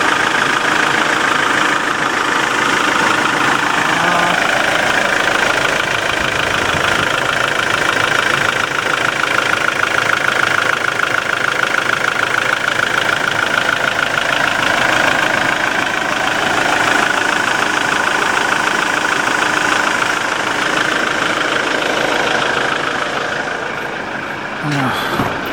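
A diesel engine with common rail injection idles steadily and loudly throughout, a constant broadband rumble and clatter that fades slightly as it is shut off near the end.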